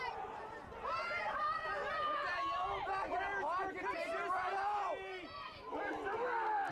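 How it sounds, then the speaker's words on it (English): Soccer match crowd in an NPSL conference final between Duluth FC and Med City, a dense, steady roar of many voices shouting and jeering after a foul from behind, loud and sustained with a brief dip near the end. "you can hear the crowd is obviously upset with it"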